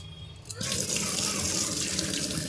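Prawns being washed under a running tap: after a brief quiet moment the water gushes on and flows steadily, close and fairly loud, splashing into a sink with no voices.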